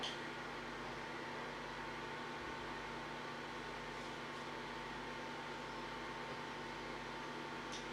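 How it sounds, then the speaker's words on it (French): Generated white noise hisses steadily over an amateur radio channel, a flat, constant, moderately quiet rush that never changes, with no voices. "Le bruit blanc, c'est ça le terme."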